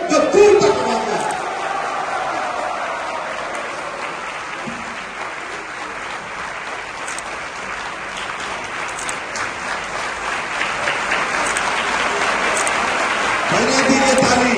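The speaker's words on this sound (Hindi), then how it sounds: "पूज्य गुरुदेव भगवान के लिए एक बार जोर से ताली बजा दीजिए" A large devotional gathering applauds for the guru, sustained loud clapping from a crowd with scattered whoops, swelling again toward the end.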